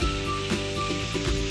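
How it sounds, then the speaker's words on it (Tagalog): Chicken with soy sauce, black pepper and oyster sauce simmers in cola in a pot: a short, steady bubbling sizzle, close and moderately loud, with a faint tonal hum underneath and no speech. "pakulan natin ng coke"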